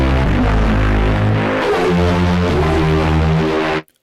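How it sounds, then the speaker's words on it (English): A gritty bass synth preset in UVI Mosaiq plays a sequence of sustained chords, dense and loud with a heavy low end, before cutting off abruptly near the end. "This is a super gritty bass preset,"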